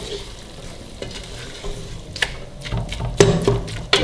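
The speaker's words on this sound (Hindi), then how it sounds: "कीमे को हम ज़रा इस तरह चम्मच, दोई या चम्मच की मदद से इसको अच्छी तरह मिक्स कर लेंगे।" A spoon stirring cooked keema in a pot as the water dries off, giving soft, close scraping and sizzling with a few sharper clinks of metal against the pot.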